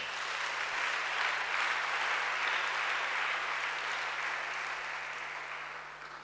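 A church congregation claps together at a worship service. The applause is steady and fairly even throughout, then begins to thin out toward the end. A low constant hum sits underneath, and no one talks.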